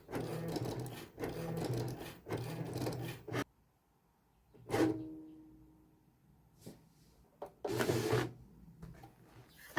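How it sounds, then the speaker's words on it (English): A Cricut Maker cuts vinyl with three quiet, evenly spaced mechanical whirring passes, then a pause and a few faint clicks and brief motor bursts at close range. "it took about 2 to 3 minutes for the Cricut to cut the two different cuts."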